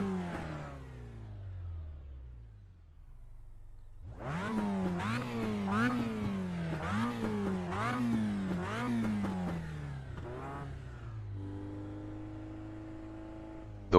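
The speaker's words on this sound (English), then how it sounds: "Is that engine noise too loud?" Race car engine in the iRacing sim, idling low before revving hard through a run of rising and falling surges, then settling back to a steady hum.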